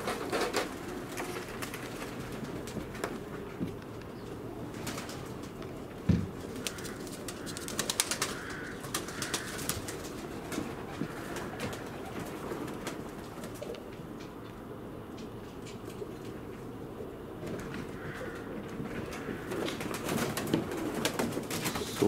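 Mozdok and Leninakan pigeons coo softly outdoors amid a steady wash of background noise, with occasional faint wing flutters and a brief knock partway through.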